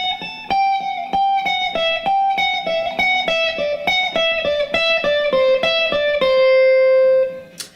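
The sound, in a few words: electric guitar shred lick descending on a single string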